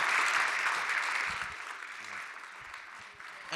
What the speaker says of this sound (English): Round of applause for Jeremy.